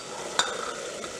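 Boiled potato pieces dropped into a hot pan for a Navratri fasting dish, a sharp clatter followed by a soft, continuous sizzle as they fry and are stirred.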